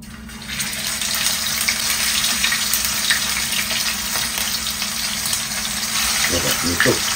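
Food frying in hot oil in a heated pan, a continuous close sizzle and crackle throughout, with a few brief clatters near the end and a voice speaking over it.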